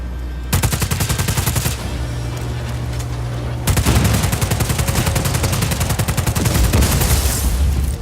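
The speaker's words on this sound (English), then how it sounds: "Now I guess I shoot it in the guts." Loud, rapid automatic gunfire in the PC video game Just Cause 4, sounding as sustained machine-gun bursts with a brief pause and then a longer volley.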